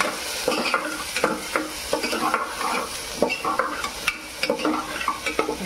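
Chopped onion frying in a pan over a garlic-ginger base, steady sizzling under repeated scraping stirs and light clinks of a spoon on metal, close and fairly loud with no voices.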